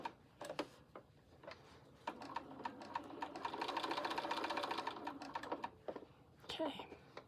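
A sewing machine stitches a quilt block in short bursts, then in one longer steady run, mixed with small clicks and handling noises; close and fairly quiet.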